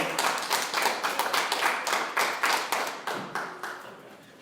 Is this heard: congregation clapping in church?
yes